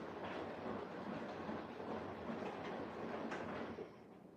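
A Siemens WG46H2AXG washing machine drum tumbles through a cottons 60 wash with added steam, giving a soft, steady swishing rumble with faint rhythmic surges that drops quieter near the end.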